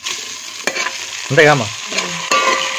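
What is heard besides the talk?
chillies, potatoes and carrots being stir-fried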